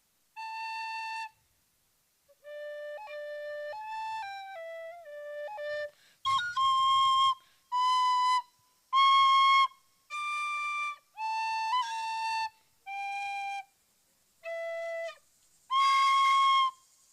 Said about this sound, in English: He's been learning the whistle.